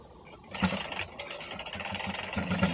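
A small sewing machine stitches a decorative butterfly bow in a steady mechanical whir that starts after a short quiet moment and keeps running with a rhythmic stitching hum, close and moderately loud.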